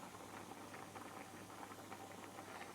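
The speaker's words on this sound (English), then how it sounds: "Our carrot is boiling." A carrot simmers in a pot of boiling water, giving a faint, steady bubbling hiss with light irregular popping and no talking.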